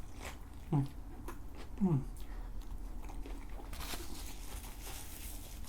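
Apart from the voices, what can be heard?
biting and chewing a Freshness Burger classic cheeseburger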